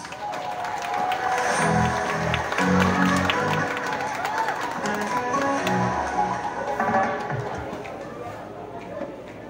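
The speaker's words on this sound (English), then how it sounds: "Let's give them a big round of applause!" Crowd applause at a 70th birthday celebration, steady moderate clapping from guests with chatter and voices mixed in throughout.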